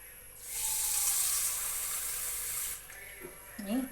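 Water poured from a cup into flour for a milk pathiri batter, a steady bright hissing pour lasting about two seconds, then a few soft kitchen clinks and movements afterward.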